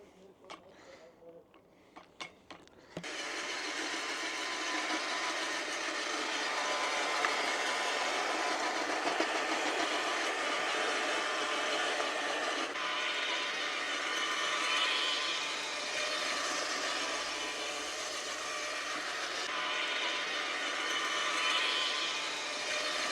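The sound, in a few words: rotavator attachment on Milwaukee outdoor multi-tool tilling soil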